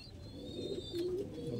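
Lalsira and KTM Teddy breed pigeons give a soft, brief coo, faint and low against a quiet background.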